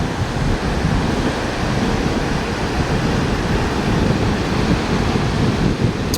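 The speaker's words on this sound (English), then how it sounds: "Just listen to the waves." Ocean waves at a beach in Orlando wash in a continuous loud roar, with wind buffeting the microphone throughout.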